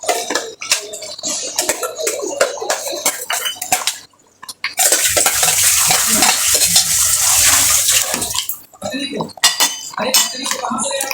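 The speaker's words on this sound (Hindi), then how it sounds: "देखिए मेरा चिकन पक रहा है।" Chicken curry cooks in a pan as a spoon scrapes and clanks against the metal, with a loud hissing sizzle in the middle stretch, and someone talks over much of it.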